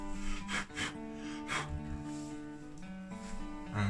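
Rhythmic rasping strokes of sanding on the wing section of a Fokker D8 model kit, several back-and-forth rubs, close and moderately quiet over a steady tonal background hum.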